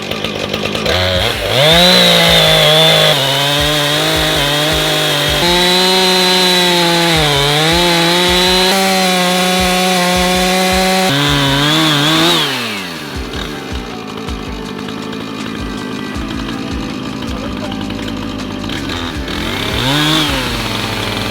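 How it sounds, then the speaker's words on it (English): A chainsaw milling wood slabs runs loud and steady at full throttle for about ten seconds, then winds down to a rougher, lower idle with a brief rev near the end. "Now what we're gonna do is take the chainsaw"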